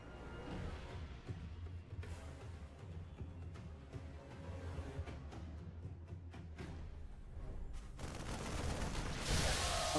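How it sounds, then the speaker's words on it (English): Marines fire guns in a StarCraft 2 match. Rapid, crackling bursts of gunfire repeat throughout and grow louder toward the end. "A few Marines continue to fire through."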